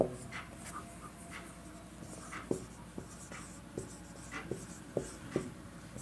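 A pen writes a maths solution by hand on paper, soft scratchy strokes with scattered light taps, close and quiet against a faint room background.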